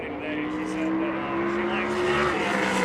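A modified race car drones steadily on the South Boston track during SMART Modified Tour qualifying, a continuous engine roar with a sustained harmonic note, heard from a distance beneath an announcer's commentary.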